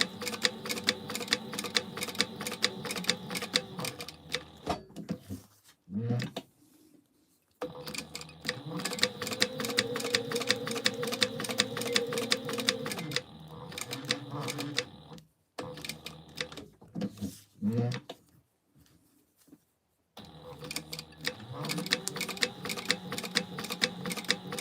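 A sewing machine top stitching around a clear vinyl piece on a fabric gingerbread house gift holder, running in several fast rhythmic bursts with short quiet pauses between them, close and alone.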